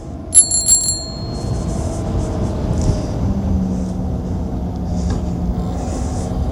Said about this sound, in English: Let's use the little bicycle bell over here, see if they hear me.